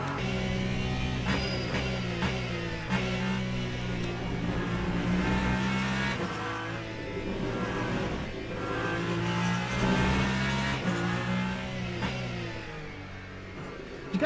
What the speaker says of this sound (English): Oh, I love the sound of this Ferrari, man.